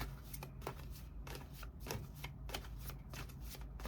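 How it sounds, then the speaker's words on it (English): Tarot cards shuffled by hand close up, a quick series of crisp riffling flutters repeating in a steady rhythm, quiet, with no voices. "I want to see you shuffle up the cards."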